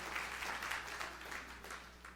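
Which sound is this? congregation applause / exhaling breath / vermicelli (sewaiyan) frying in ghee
congregation applause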